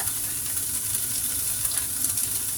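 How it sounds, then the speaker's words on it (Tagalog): Cooking oil hits a hot pan and sizzles loudly and continuously, a dense close frying hiss with no speech. "lagyan ko na ng mantika"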